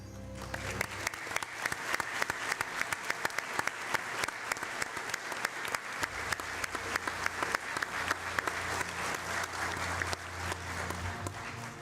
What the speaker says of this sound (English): Join me in applauding these outstanding citizens of our community,